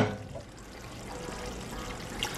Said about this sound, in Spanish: Le voy a añadir un poquito de agua más.